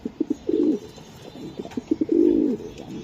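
Racer pigeons coo close by in repeated throaty bursts: short pulsed notes build into longer rolling coos, twice over, clear and loud with no talking.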